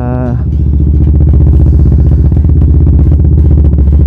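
A CFMOTO 700CLX motorcycle rumbles close and loud, its engine note rising from a brief idle into a steady, pulsing run.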